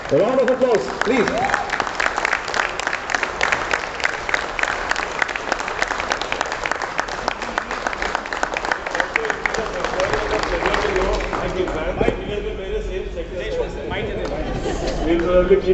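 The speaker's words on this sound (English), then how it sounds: "A round of applause, please." Audience applause at a hotel management institute alumni meet, a dense, steady clapping from a crowd that continues for most of the stretch, with voices mixed in and some talk toward the end.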